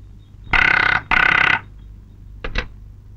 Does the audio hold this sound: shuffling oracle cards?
no